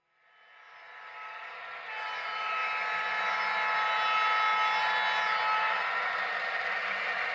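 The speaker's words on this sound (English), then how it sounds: "Arriving are two lifelike Proto 2000 GP9s in SP Black Widow colors." A pair of Proto 2000 GP9 diesel model locomotives in SP Black Widow paint arrive, a whirring, humming rumble swelling from silence and then holding steady and fairly loud.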